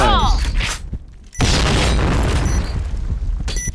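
A grenade blast in a Counter-Strike-style shooter game bursts loud and broadband after a short gap, sustained for a couple of seconds, with brief sounds and faint voice chat before it.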